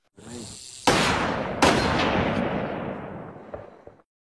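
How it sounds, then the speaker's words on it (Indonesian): Two loud gunshots ring out in a mystery film scene, the second about a second after the first, each a sharp crack followed by a long, booming echo that fades out over a few seconds. "dia menembak ketua dari kelompok itu dengan sebuah senjata yang dia bawa"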